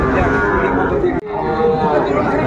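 Cattle, young bulls and heifer calves, low loudly over a busy crowd at a rural livestock market in Dinajpur, with constant chatter and voices around them.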